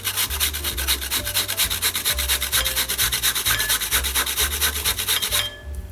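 Frozen watermelon scraped against a cheese grater, a loud, steady rasping rub in quick rhythmic strokes right up close, stopping just before the end.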